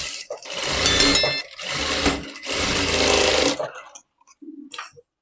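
A sewing machine stitches a blouse neckline in three quick bursts of rapid mechanical whirring, each a second or so long with short pauses between, close and loud before falling quiet.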